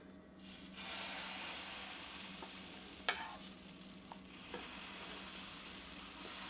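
Dal palak batter sizzles on a hot oiled pan, a quiet steady frying hiss with a few soft clicks and taps over it, close and faint.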